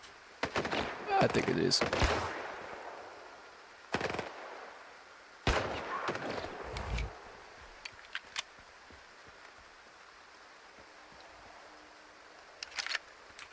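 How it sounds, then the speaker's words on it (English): Gunfire in the video game S.T.A.L.K.E.R. 2 comes as several sharp bursts of shots, loud and close, with quieter stretches in between and a voice speaking briefly. "I'm about to shoot him."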